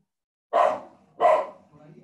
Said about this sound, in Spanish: Permítanme que mi perro está aquí a la hora.